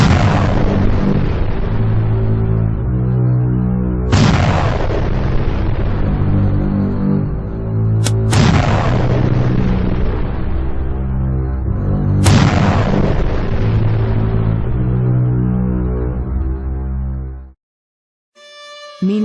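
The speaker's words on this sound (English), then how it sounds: "grabbed his shotgun, raced to a spot with a clear view, and began firing away at the alligator." Shotgun blasts in a staged audio story about firing at an alligator: four loud, booming shots spaced about four seconds apart, each decaying into a long rumbling echo before a brief silence.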